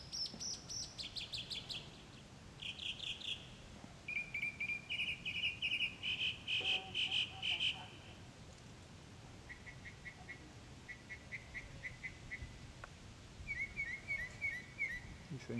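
A mockingbird sings outdoors, delivering repeated bursts of varied high chirps and whistled phrases in short series, moderately near over a faint background hiss.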